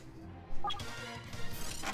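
Glass door shattering under PP7 pistol fire in the video game 007 Nightfire, a sudden loud crash with scattering debris that continues over a couple of seconds.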